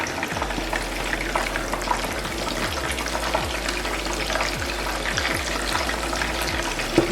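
Keto-battered pieces frying in hot oil give a steady, loud, close sizzle and crackle throughout, with no one talking.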